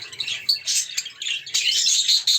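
Several small birds in an aviary chirp and tweet busily in quick overlapping bursts, close and fairly loud, with no talking.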